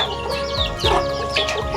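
Chickens in a flooded farmyard cluck close by in a quick series of short, rising calls, several birds overlapping in under two seconds.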